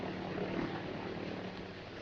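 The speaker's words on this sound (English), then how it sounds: "My men in the other planes are circling about." Several propeller planes circle overhead in a steady, continuous droning hum with no breaks, fairly faint and distant, in an old 1930 film scene.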